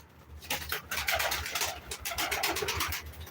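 Pigeons coo softly and repeatedly at a live pigeon auction, low throaty calls overlapping in a busy loft with light fluttering and shuffling nearby, no voices present.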